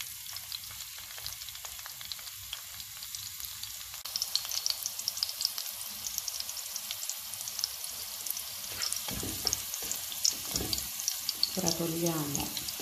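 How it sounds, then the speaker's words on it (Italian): Olive oil heating in a pan over a high gas flame gives a steady faint sizzle and hiss, with a few clinks and rustles near the end; close and fairly quiet, no talk. "Ho messo la padella su un gas con la fiamma sostenuta e ora facciamo profumare l'olio."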